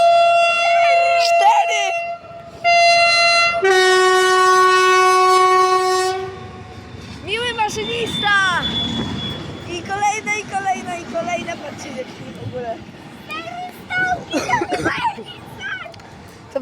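Loud, sustained train horns blare in chords from three coupled ST44 diesel locomotives passing, followed by rumbling wheels and engine noise as they roll by up close.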